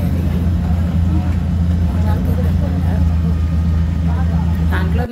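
Oil-fuelled tourist boat engine running on Fateh Sagar Lake in Udaipur, a steady, loud low-pitched drone with a constant hum that continues without a break and drops off at the very end.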